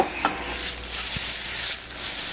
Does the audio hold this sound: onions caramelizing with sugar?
yes